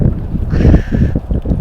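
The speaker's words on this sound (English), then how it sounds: "excuse the wind. It's pretty windy." Wind buffets the microphone with a low, rumbling roar that swells and fades over a second or two.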